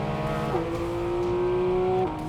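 A Porsche 718 Cayman GT4 RS engine accelerating hard, loud and close, with a steady rising howl that shifts pitch once as it climbs through the revs, no talking.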